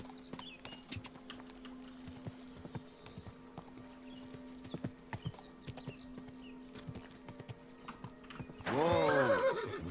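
A horse in the video game Kingdom Come Deliverance 2 clip-clops along at a steady pace, and a loud, close neigh rises sharply in the last second.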